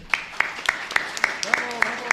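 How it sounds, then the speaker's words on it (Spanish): An audience applauds the Mexican author Adán Medellín at a book presentation, with sharp claps landing in a steady rhythm near the microphone while a murmur of voices carries underneath. "vamos a darle un aplauso a Adán Medellín"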